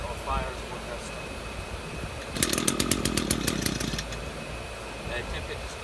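An Echo PAS-225 petrol engine being pull-started, giving a brief burst of rapid sputtering firing for about a second and a half as it tries to catch, between quieter stretches of handling noise.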